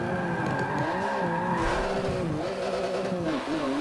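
Tyres squealing in the Forza Motorsport 7 racing game on PC, a loud continuous screech with wavering pitch over a droning engine, steady for several seconds.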